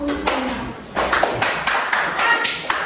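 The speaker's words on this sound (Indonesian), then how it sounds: "Kita tepuk tangan untuk" An audience in a classroom setting claps hands in several short bursts of scattered clapping, fairly close and moderately loud.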